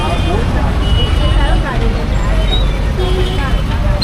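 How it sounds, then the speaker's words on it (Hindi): Dense road traffic in Ujjain, with buses, cars and e-rickshaws making a constant loud roadway roar, and faint chatter mixed into the steady noise. "ये पूरा वहाँ तक ट्रैफिक ही ट्रैफिक है यहाँ पे।"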